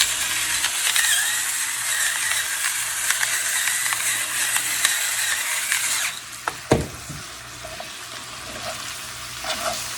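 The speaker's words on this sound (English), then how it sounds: "I'm going to add some freshly ground black pepper." A hand pepper mill grinds fresh black pepper over a vegetable and Italian sausage dish with a steady, gritty ratcheting crunch for about six seconds, then a sharp clunk gives way to quieter sizzling.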